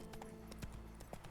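A horse's hooves clip-clop in The Witcher 3: Wild Hunt, giving a quiet, steady run of hoof strikes with faint game ambience beneath.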